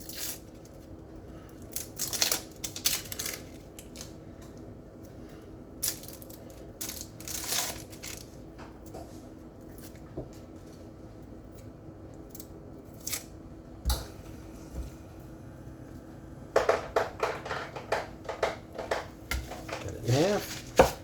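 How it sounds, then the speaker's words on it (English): An onion being peeled by hand before slicing with a Korean knife: dry papery tearing and crackling of the skin in irregular bursts, close and moderately loud, with a denser run of crinkling toward the end. "First off, let's peel this onion."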